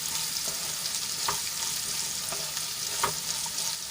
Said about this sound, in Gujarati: એમાં આપણે કટ કરેલા કંકોડા એડ કરી લઈશું અને સરસ રીતે તેલમાં મિક્સ કરી લઈશું